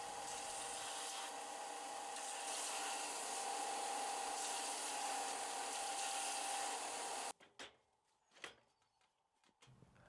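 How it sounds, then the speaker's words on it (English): A power sander rounds over the ends of wood pieces for an upcycled shelving unit, a loud steady whir for about seven seconds that then cuts off, followed by a few quiet knocks and handling sounds. "I just need to round the ends over on the sander."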